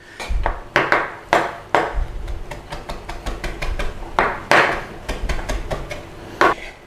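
A knife chops flat leaf parsley on a board in a home kitchen, giving a brisk, irregular series of sharp close taps and knocks, with no talk.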